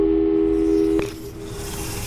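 A telephone busy signal in the video game Portal 2, a loud steady electronic tone that cuts off after about a second, leaving a low hum.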